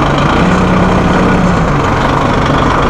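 A Massey Ferguson 1740E compact tractor with a 38.5 hp engine runs in first gear, a loud, steady diesel drone with a low throbbing hum that holds constant throughout.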